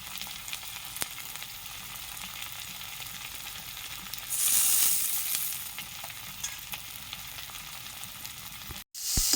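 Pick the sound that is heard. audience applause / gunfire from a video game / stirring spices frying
stirring spices frying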